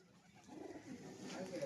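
Soft pigeon cooing in a low murmuring rhythm, fairly close, with a faint background hum and some indistinct noise.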